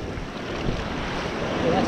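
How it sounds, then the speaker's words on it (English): Ocean breakers rolling onto the beach at Lucky Bay, a steady broadband wash of surf mixed with wind noise on the microphone, continuous and fairly loud throughout. "Look at the breakers."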